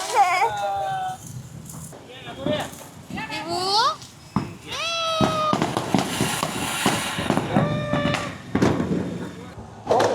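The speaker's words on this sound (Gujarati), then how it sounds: "ફટાકડા બધા અહીંયા સામેની હોટલવાળાને બધા રોડ પર જ ફોડે છે" Firecrackers bursting on a road outside a hotel in Dwarka during Diwali: sharp cracks and bangs scattered through the clip, mixed with children's excited shouts and voices talking over them.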